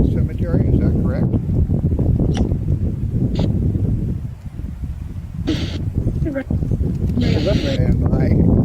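Wind buffeting a microphone outdoors at a cemetery on Memorial Day: loud, continuous low rumble and gusty roar, with voices talking over it.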